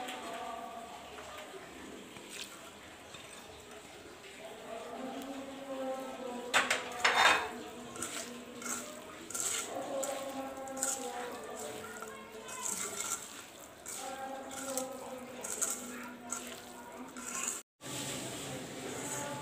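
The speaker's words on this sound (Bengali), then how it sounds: "এখন আমি এখানে আলু কাটাগুলো দিয়ে দিচ্ছি, একই সঙ্গে মাছগুলোও দিয়ে দিব।" Cut potatoes and small fish being mixed by hand in a metal bowl, with soft scraping, squelching and occasional clinks of utensils against the dish, fairly quiet and close.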